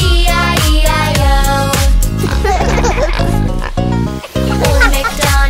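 Pig oinks sung in an Old MacDonald nursery rhyme, a loud voice imitating the pig in short rhythmic grunts over bouncy music.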